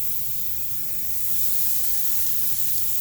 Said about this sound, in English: So let's put our back strap on first. We'll put it right here. A nice little sizzle from that.